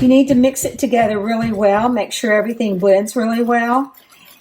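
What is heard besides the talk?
No everyday noises stand out.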